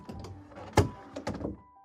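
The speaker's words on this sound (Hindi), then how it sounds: "अचानक रूम का दरवाजा खुला" A room door opens as a staged drama effect, a dull wooden thunk followed by a second knock and brief creaking, close and clear with no voices.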